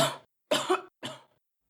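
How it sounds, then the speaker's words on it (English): Three rough coughs in quick succession, close and loud, the middle one longer and rasping, with silence after. "What coughing?"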